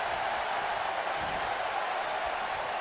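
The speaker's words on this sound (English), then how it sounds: "the crowd's getting fired up" A wrestling arena crowd roars in a steady, dense wash of cheering and applause, loud and unbroken throughout with no distinct voices standing out.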